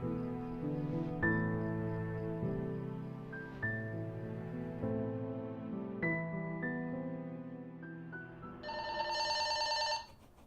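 A telephone bell rings near the end, bright and insistent, after a stretch of melodic background music in a home setting; no voices are heard.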